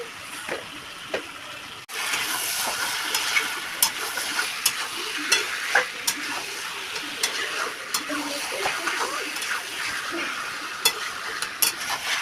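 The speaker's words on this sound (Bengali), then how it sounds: "চিকেন লেগ পিস চলে গেল কড়াইতে" Chicken leg pieces for a yogurt chicken dish drop into a hot wok and fry with a loud, steady sizzle, punctuated by clicks and scrapes of stirring, close up and without talk.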